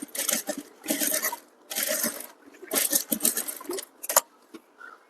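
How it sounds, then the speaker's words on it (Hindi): A sewing machine stitching a blouse runs in short bursts of rapid mechanical chatter, five or six close, fairly loud runs separated by brief pauses. "हम यहाँ पर भी सिलाई लगाएंगे।"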